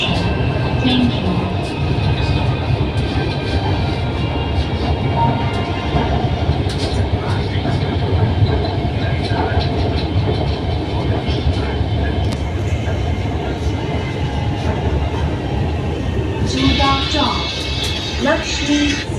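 Inside a moving Lahore Orange Line metro train, the carriage gives a steady loud rumble and rattle of wheels on track, with voices heard over the ride.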